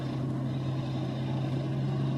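A 2019 Audi Q8 with a six-cylinder engine idles, heard from inside the quiet cabin on a Geneva Motor Show test drive: a steady, subdued low hum with a faint constant drone and no voices.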